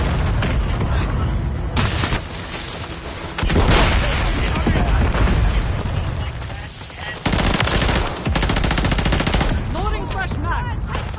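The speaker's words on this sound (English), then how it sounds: "Hostile mortar strike near." Dense Modern Warfare 3 video game battle audio: rapid gunfire and machine-gun bursts with heavy booms from a nearby hostile mortar strike, loud and continuous over the whole stretch, with radio-style voice callouts mixed in.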